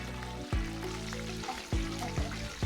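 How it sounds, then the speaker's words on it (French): Banana chips fry in boiling oil, giving a steady, close sizzle broken by several low thumps and stirring sounds, with no one talking. "n'hésite pas à plonger les doigts dans l'huile en ébullition pour assurer une cuisson des chips parfaite"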